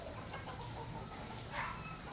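Chickens kept for conditioning cluck faintly in the background, soft scattered calls over a steady low hiss, with one slightly louder note near the end.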